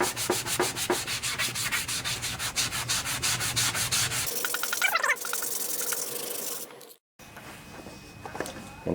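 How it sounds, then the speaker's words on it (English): Coarse grit sanding sponge rubbed hard against the rusty cover of a vintage 8 hp Briggs and Stratton Snapper riding mower, a steady close scratchy scrubbing with rhythmic strokes, changing tone midway and pausing briefly near the end. "I'm going to use a coarse grit sanding sponge on this"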